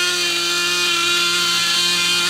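A Dynamite .28 nitro engine idles in a Losi 8ight-T RC truck, a loud, steady, close high-pitched buzzing drone with strong harmonic whine and no talk.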